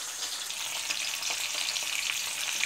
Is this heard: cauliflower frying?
yes